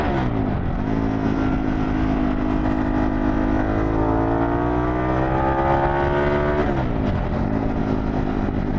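A Harley-Davidson Pan America adventure motorcycle fitted with a Vance & Hines exhaust runs loud and close. The steady engine drone rises in pitch as it revs, then drops back to idle near the end.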